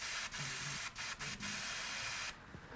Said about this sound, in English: you're going to spray out the green